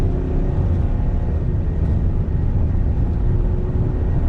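Citroen C5 Aircross two-litre diesel with 177 PS and 400 Nm of torque pulling hard, a steady loud engine drone and road roar inside the cabin with no voices.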